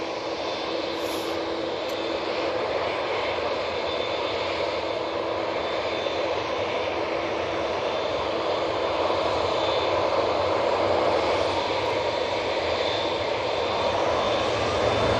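Qatar airliner jet engines roar steadily at Manchester Airport, a broad continuous rumble and whine that slowly grows louder over fifteen seconds.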